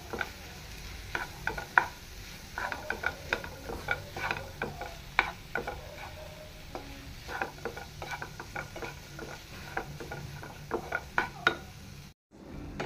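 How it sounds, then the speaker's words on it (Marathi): Mackerel meat being mixed with masala by hand or spoon in a bowl, a soft, quiet run of wet squelching and patting with small clicks, steady and close. "बरें ते मसालो आनी ते मांस आहा पळय ते बरें मिक्स करून घेता"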